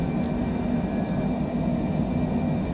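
Cessna Citation C700 jet in Microsoft Flight Simulator climbing after takeoff, a steady, loud engine roar with deep low rumble and constant whine held throughout, no voices.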